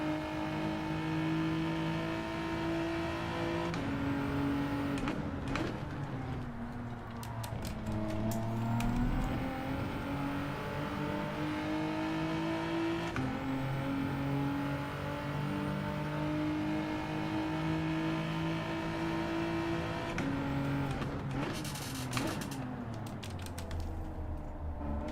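A Gr4 race car engine in Gran Turismo 7 holds a steady, loud whine through a lap of Circuit Gilles Villeneuve, climbing and dropping in pitch with gear shifts and braking, with no talk over it.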